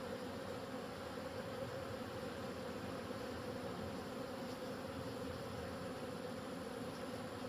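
Honeybees buzz steadily around an open hive during a colony inspection before making splits, a dense, continuous drone that stays close and loud throughout with no voices.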